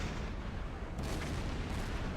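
A U-boat deck gun fires at a ship in a submarine video game, a single heavy boom about midway through, over a constant loud rumble of sea and engine noise.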